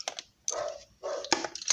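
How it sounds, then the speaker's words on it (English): A dog at home barks three short sharp times, each a loud close bark separated by brief pauses, with no talk over it. "Oh, there's the dog."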